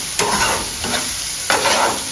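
Onions frying in a pan for an Odia mushroom dish, a loud, close sizzle with three distinct scraping stirs of a spatula, the first and last strongest, no voices present.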